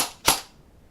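A single sharp crack from a CYMA AKM airsoft gun fired with no magazine inserted, one short close burst that quickly fades into quiet.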